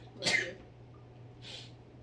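A single sharp sneeze close to the microphone in a quiet room, an abrupt burst followed by a brief breathy exhale a second later.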